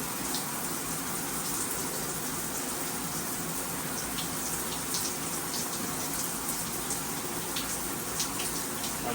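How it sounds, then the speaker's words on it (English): Water runs from a Symmons Temptrol shower valve with a steady, dense hiss and splash, continuous and fairly loud at close range, with no talking. "Might take a minute for the hot water to get up here."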